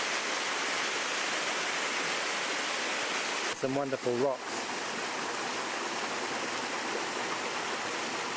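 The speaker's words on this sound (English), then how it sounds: "the waterfall goes on up the river" A waterfall and river in a rocky gorge at Kapiti, New Zealand, roar as a steady broadband rush throughout, with someone briefly speaking over it midway.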